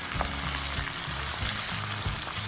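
Black seeds dropped into hot oil for a spicy pepper mutton roast, giving a steady close sizzle and crackle with a low bubbling undertone and a few sharp pops.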